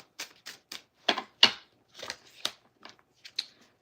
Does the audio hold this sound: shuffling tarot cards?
yes